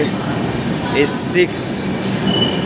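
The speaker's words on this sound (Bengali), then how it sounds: "আমাদের ট্রেন ঢুকে গেল স্টেশনে" A train rolls into a railway station with a steady, heavy rumble and brief squeals of wheels, while voices murmur in the background.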